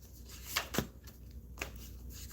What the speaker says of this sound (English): Let's shuffle and pluck from this deck.